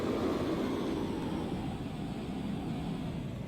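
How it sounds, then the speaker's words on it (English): An airliner touching down in a flight simulator game gives off a steady, broad engine and air roar that stays fairly even and moderately quiet throughout, with no voices. "I'm coming in for landing"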